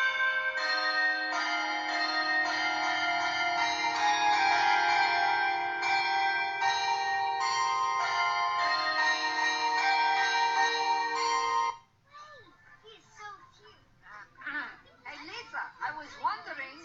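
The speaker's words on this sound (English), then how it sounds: "midday chime for some time." Midday chime bells ring steadily with full, sustained tones for about twelve seconds, then stop abruptly, and people talk and laugh afterwards.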